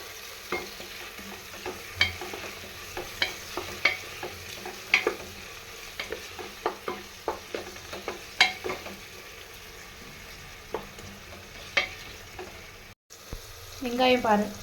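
Onions stir-fried in a pan, a soft background sizzle broken by frequent sharp scrapes and clicks of a spoon against the pan at an uneven pace.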